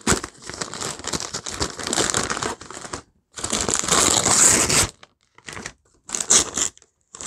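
Gift wrapping being torn and opened up close, with loud bursts of crinkling and crumpling paper separated by brief pauses of quiet.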